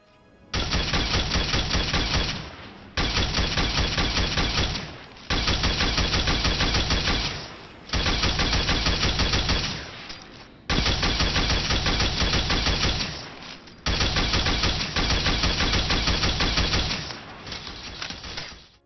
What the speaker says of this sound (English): here is a look at the gun firing with 0 all the way to 6 stacks